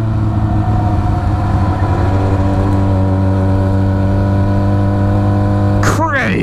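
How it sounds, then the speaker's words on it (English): A motorcycle engine set up to sound like a MotoGP bike holds a loud, steady droning note throughout, with a quick upward rev sweep near the end. "Evelyn's a MotoGP bike now."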